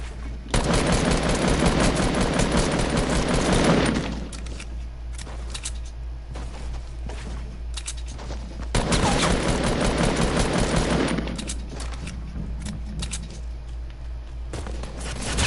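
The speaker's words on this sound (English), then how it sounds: "I'm being shot at from behind." Automatic gunfire in the Phantom Ender video game rattles loud and rapid in two long sustained bursts, separated by quieter scattered shots.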